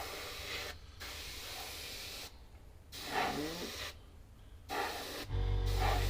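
An airbrush sprays Dullcote clear coat onto a model in several steady, close hissing bursts separated by short silent pauses, with a low hum joining the final burst.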